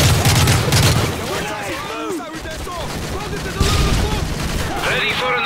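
Heavy bursts of machine gun fire from a Call of Duty: Modern Warfare 3 battle, loud at the start and again toward the end, with shouted voices and combat noise in between.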